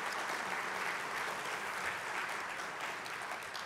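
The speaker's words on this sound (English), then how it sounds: "we do owe a round of applause to all our sponsors who made it possible" A conference audience applauds its sponsors with dense, even clapping that fills the hall from start to finish, steady and fairly loud without a lull or any voices.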